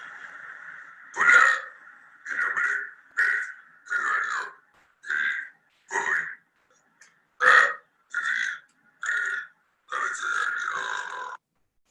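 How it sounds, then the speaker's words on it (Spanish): A series of about ten separate voiced burps used to produce esophageal speech after laryngectomy, each a short, loud, throaty belch with pauses between them, the last one stretched longer. "Esa es la forma en que nosotros vamos a tener esta voz erigmofónica o voz a través de eructos."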